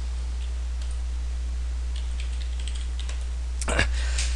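Typing on a computer keyboard while logging into a website, a scatter of light key clicks over a steady low electrical hum, ending with a louder close clack.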